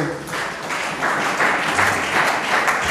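A church congregation bursts into sustained, loud applause during a sermon, dense clapping filling the room continuously with no break.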